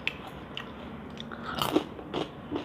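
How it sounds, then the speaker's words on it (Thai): Crispy fried stingray skin is bitten and chewed up close, giving a few sharp crunches and crackles after a quiet start, with no talking. "หนังปลากระเบนทอดกรอบ ครั้งแรกนั่นเนี่ย กินครั้งแรกเลย"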